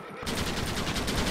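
Rapid gunfire from the video game Red Dead Redemption, a dense, continuous burst of shots that starts abruptly and stays loud and close for about a second.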